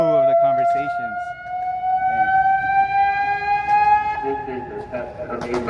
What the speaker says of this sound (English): that siren's fucking annoying, man